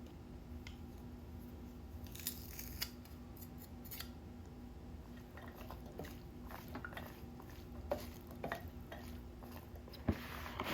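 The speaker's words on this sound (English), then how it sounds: "Mince your 2 cloves of garlic, and I like to use my garlic press." A hand garlic press crushes and minces two cloves of garlic, giving a few quiet squishing crunches and clicks spread across a faint, mostly still kitchen background.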